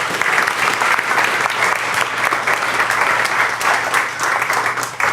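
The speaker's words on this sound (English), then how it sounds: "please give a big round of applause for tonight's speaker, Maya Tudor." Steady, dense audience applause fills a lecture hall before an evening talk on nationalism and democracy, loud and continuous with many hands clapping close together throughout.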